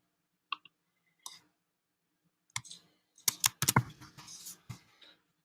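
Scattered clicks from a computer mouse or keyboard while editing in iMovie, sparse single taps at first, then a quick cluster of sharper clicks near the end, close and clear in a quiet room.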